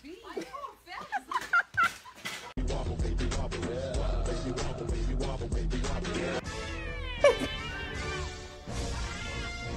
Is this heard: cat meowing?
yes